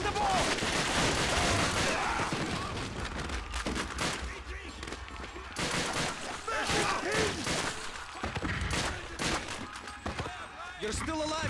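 Sustained gunfire and explosions from the World War II shooter Call of Duty: Finest Hour, loud and dense throughout, with machine gun bursts mixed among blasts and a voice shouting over the battle.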